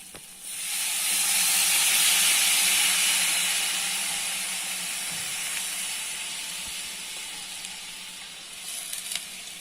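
Tamarind water poured into a hot pan for kara kuzhambu hits with a loud, steady sizzling hiss that swells quickly, then gradually softens into a lighter bubbling simmer.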